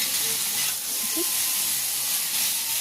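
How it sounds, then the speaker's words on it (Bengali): Meat being sautéed dry in a pan, giving off a constant broad hiss of sizzling with faint stirring, close and steady throughout. "এইভাবে মাংসটা কষে নিতে হবে"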